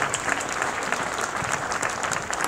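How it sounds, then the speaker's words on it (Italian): Steady, loud crowd applause rings out at a charity sports event raising funds for earthquake-hit areas, many hands clapping continuously without a break. "gli fare un applauso così simbolico"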